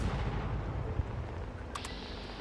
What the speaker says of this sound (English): let's soften him up with a few grenades